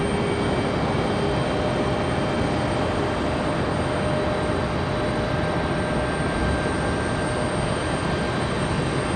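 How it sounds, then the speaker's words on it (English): An Alaska Airlines jet taxies at Raleigh-Durham airport, giving a steady, loud engine roar with a faint whine that holds unchanged throughout, with no talking. "Alaska taxiing like Southwest. In a big old hurry."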